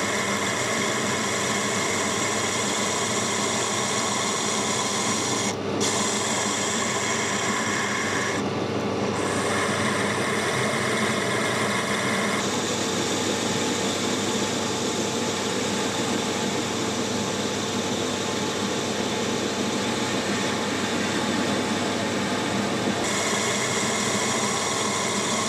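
Steady machining noise from a hand-operated ball turner on a metal lathe taking a decent cut, a continuous broadband whirr with a motor hum underneath and brief dips partway through, with no voices.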